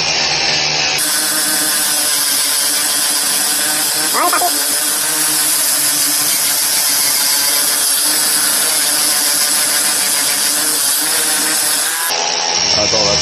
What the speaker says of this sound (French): on va passer au mode ponçage avec la meuleuse d'angle et la brosse métallique